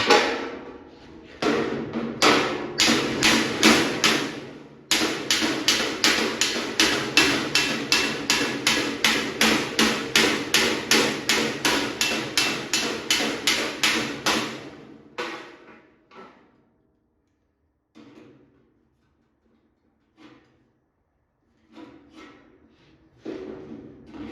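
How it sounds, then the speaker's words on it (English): Rapid metal hammer blows on a 60 gallon steel air tank, a long run of sharp ringing strikes in steady rhythm, loud and close, then a pause and a few scattered taps. "Maybe hammer that out a little bit more."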